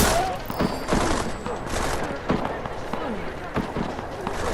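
Firefight gunfire in the video game Deus Ex Mankind Divided: loud bursts of rapid shots and impacts layered over continuous action noise, with voices speaking over the combat.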